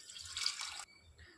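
Mutton cooking water being poured into a pot for mutton dum biryani, a short splashing pour of under a second that stops abruptly, leaving a faint quiet tail.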